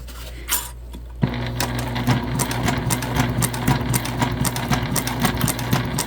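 Sewing machine stitching fabric held together with staples while sewing a bag, a rapid steady mechanical whirring with a rhythmic clatter after a brief pause, loud and close.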